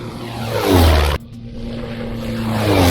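An experimental light airplane rolls along a runway, its propeller engine droning loudly and steadily, with an abrupt cut partway through before the drone returns and swells again.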